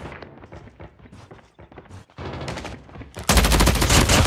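Automated sentry gun in Call of Duty Mobile opens up with rapid, loud machine-gun bursts, sporadic at first and then a dense sustained stream of close gunfire, with other battle sounds mixed in.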